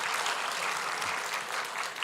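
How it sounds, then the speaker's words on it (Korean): A church congregation claps together during a Christmas service, a dense, even burst of applause filling the room throughout. "우리 박수를 한번 격려하겠습니다"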